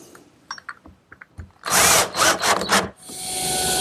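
A power drill drives screws into pre-drilled holes in a wooden woodworking jig, with several short, loud whirring bursts as each screw seats, then a longer steady run, all close and without talk.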